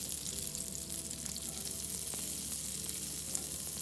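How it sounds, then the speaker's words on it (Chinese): Thirty grams of butter melting and sizzling in a pan with cooked cane sugar while an apple pie filling is prepared. A soft, continuous frying crackle runs steadily with faint scattered pops and no talking. "再将加入预先备好的牛油30克，一起融化"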